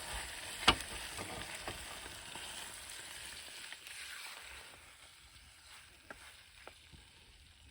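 Teriyaki sausages frying on a hexamine solid fuel stove, a quiet, steady sizzle with a sharp clack of a utensil early on and a few soft taps as the hiss fades slightly toward the end.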